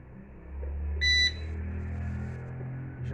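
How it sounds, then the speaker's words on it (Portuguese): A single short electronic beep from a split air conditioner's newly installed universal control board sounds clearly over a low mechanical hum, followed by the continuing drone of the running unit. "Já deu bip, galera."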